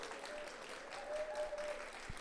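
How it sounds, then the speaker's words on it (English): Symposium audience clapping in a steady, moderately loud wash for about two seconds, with a faint voice briefly underneath. "Let's give Sue one last big round of applause for everything that she's done."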